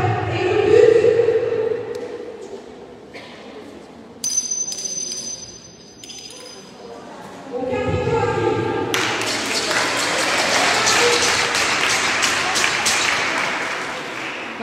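Crowd applause at a French pelota match, a broad wash of clapping that starts partway through and carries on loudly, following quieter stretches with echoing ambience and scattered voices.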